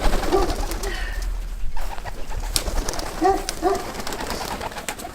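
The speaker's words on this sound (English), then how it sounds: "So this chicken coop has pigeons overhead, as you might have seen." Pigeons coo in soft, repeated two-note calls from overhead in a chicken coop, close and clear among rustling and faint movement, with a brief spoken word.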